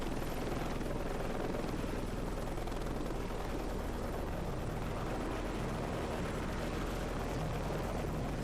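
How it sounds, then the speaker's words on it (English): A Black Hawk helicopter in the game Heliborne, a steady, dense rotor and engine roar holding constant and loud throughout with no talk. "somebody just launched in a Black Hawk"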